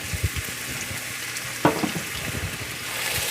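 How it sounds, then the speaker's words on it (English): Onions sizzle in hot oil in a pan during stew preparation, a steady frying hiss with a sharper crackle burst partway through, moderately loud and close, with no talking. "You hear a little sizzle?"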